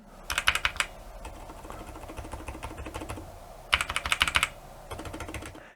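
Typing on a quiet mechanical keyboard in two short bursts of crisp, rapid clicks, with quieter soft key presses between them; fairly close, no voices.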